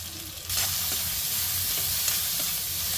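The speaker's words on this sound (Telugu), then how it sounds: "ఒక్క సెకండ్ వేగితే సరిపోతుంది" Vegetables with a little salt fry for veg hakka noodles in a hot pan. After a brief quieter moment a loud, close sizzle bursts in and holds steady, with soft stirring scrapes and no speech.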